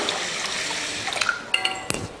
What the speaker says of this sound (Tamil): அரிசி உளுந்தெல்லாம் கழுவியாச்சு. இப்போ இதில் தண்ணி சேர்த்துடலாம்.